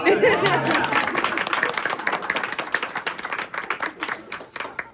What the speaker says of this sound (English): I feel like we should be clapping.